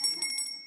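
A single quick ring of a small bell used by the chair of an education committee meeting, bright and metallic, a few rapid strikes blending into a short fading ring.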